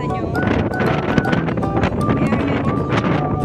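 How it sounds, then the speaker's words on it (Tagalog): Strong wind gusting through an open flower garden, buffeting the microphone with a continuous, rough, roaring rumble that stays loud throughout. "Sobrang lakas ng hangin."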